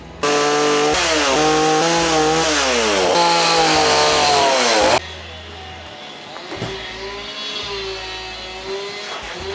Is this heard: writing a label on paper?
no